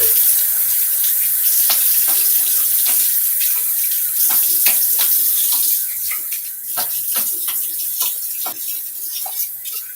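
A bathroom tap runs steadily for a post-shave rinse, with splashing and dripping as hands and face are rinsed under the stream, close and fairly loud with no talking.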